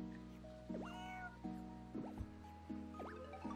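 Repeated short cat meows, about four of them, sound over a steady musical bed in the casual cat-care game So Many Kitties, with a small droplet-like plop partway through.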